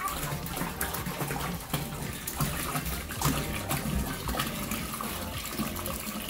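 Fresh water is poured into a bucket for a nano reef aquarium water change, a continuous gushing, splashing stream that runs steadily and close for several seconds.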